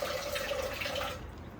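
Okra boils in a pot of water on a kitchen stove, a soft continuous bubbling and watery fizz at close range with a faint tonal hum, fading slightly toward the end.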